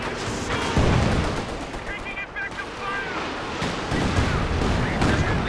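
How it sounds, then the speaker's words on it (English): Artillery barrage slams into an enemy HQ in Company of Heroes 2, a dense run of loud gunfire-like bursts and booms that continues with no break through the whole stretch of battle. "using this barrage to soften up the HQ"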